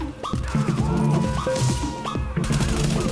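Combat in the video game The Division: a burst of rapid gunfire and impact crashes over a few seconds, loud and close, with a grenade blast amid the shooting.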